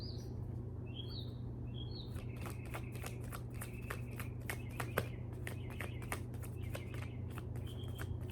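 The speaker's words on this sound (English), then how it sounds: "Pretty birds." Small birds chirp faintly in the background, a few quick high calls early on, while a steady low hum and rapid rustling clicks like shuffled cards fill the foreground.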